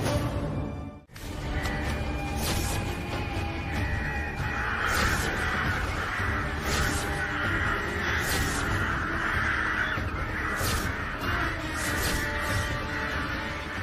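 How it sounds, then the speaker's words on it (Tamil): A flock of crows cawing loudly and repeatedly, several birds calling over one another in a continuous, harsh chorus close by. "அதான் மற்ற காக்காலாம் கத்திக்கிட்டு இருக்கு."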